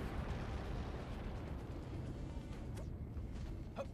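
Loud explosion effect in the Power Rangers Super Legends video game, a dense rumbling blast that fills the whole clip, with a couple of brief crackling pops near the end.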